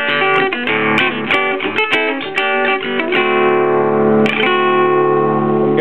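Electric guitar through a Baldwin C-1 amp on the mid one setting plays a brisk picked phrase, then lets a chord ring out, loud and close, with a final strummed accent near the end.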